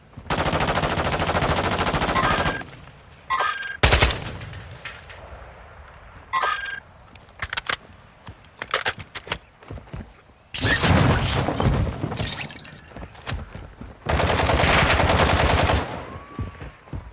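Bursts of automatic gunfire in Call of Duty MW2 DMZ, several long sustained volleys separated by short gaps and scattered single shots, loud and close.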